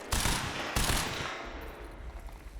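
Rapid automatic gunfire in the video game Quantum Break, two loud close bursts of shots with a ringing, fading tail and no voices.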